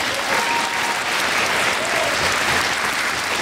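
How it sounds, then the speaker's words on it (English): A school spring concert audience applauds string, concert and jazz band performers with a dense, continuous roar of clapping from a large crowd, loud and even throughout. "Please give them a round of applause"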